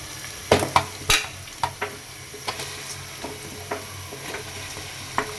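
Chicken and potatoes frying in a pot, a steady sizzle broken by sharp clinks and scrapes from a spoon, loudest at first and then lighter, irregular strokes heard up close.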